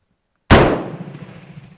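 A single sharp, loud report from a MAS 49/56 rifle cracks out nearby after silence, followed by a ringing decay that fades over about a second.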